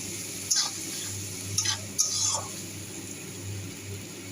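Green chillies and poppy seeds stirred together in a frying pan, a few short scraping and clinking strokes over a faint steady sizzle, close and fairly quiet.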